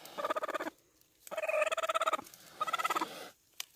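An angry turkey hen gives three bursts of rapid, rattling, purring clucks in quick succession, close and fairly loud, followed by a brief final chirp.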